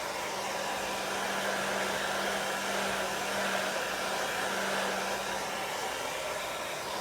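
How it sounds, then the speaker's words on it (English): Hair dryer on the hot setting blowing steadily for several seconds to dry chalk paste, a constant close whooshing roar with a low motor hum and no pauses. "I'm just going to go ahead and use my hair dryer."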